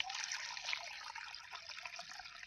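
Water pouring and trickling into a drum at the edge of a paddy field, a soft, steady splashing fill heard alone and fairly faint.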